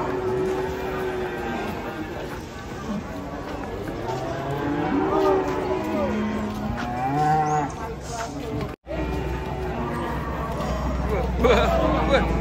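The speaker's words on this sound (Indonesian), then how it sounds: "Banyak sapi ngamuk." Rampaging sacrificial cattle bellow in repeated loud moos, some near and some farther off, over a noisy crowd of people talking and shouting.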